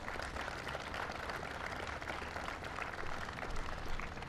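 Steady applause from an audience at an outdoor fairground gathering with county officials, a dense continuous patter of clapping at moderate distance with no talk over it.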